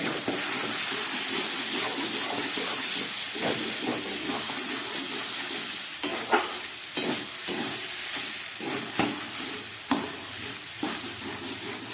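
Tender banana flower stem with a little sugar sizzles and steams steadily in a pan over a gas flame, with repeated close scraping stirs of a spatula cutting through the constant frying hiss.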